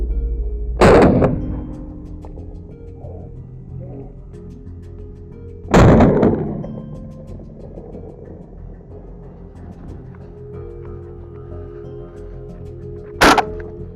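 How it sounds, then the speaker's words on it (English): Rifle shots are fired at a wild boar during a hunt in Cantabria. Three sharp, loud cracks ring out several seconds apart, each followed by a short rumbling echo over quiet outdoor background. "A series of quick, precise shots brings it down easily."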